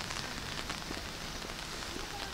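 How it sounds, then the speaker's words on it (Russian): Steady rain falls outdoors on a spring day, a continuous dense hiss of drops pattering on surfaces and fresh greenery, even and close with no talking. "Дождик поливает ее."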